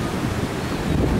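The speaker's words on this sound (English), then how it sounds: "There's the sea." Sea surf at Boulogne-sur-Mer in bad weather, a steady broadband roar of waves with wind buffeting the microphone, loud and continuous, no voices.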